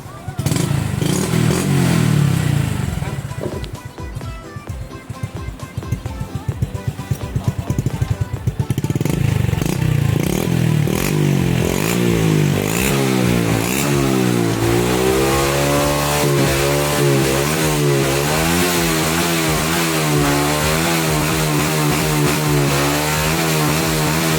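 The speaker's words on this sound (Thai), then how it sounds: "มาฟังเสียงท่อก่อน" A Honda Wave 110i motorcycle's exhaust revs up and settles into a steady, throaty rumble, loud and close, with rising and falling pitch sweeps as the throttle is blipped.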